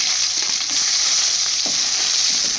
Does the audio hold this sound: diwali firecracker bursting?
no